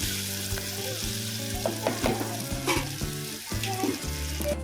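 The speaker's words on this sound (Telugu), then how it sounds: "ఇదంతా ఇట్లా కలుపుకోవాలి మంచిగా ఇవి కొంచెం నూనెలో మగ్గాలి" Vegetables stirred in hot oil inside a clay pot for a yogurt-based curry, giving a continuous close sizzle with repeated scraping strokes of the spoon against the pot, no voices.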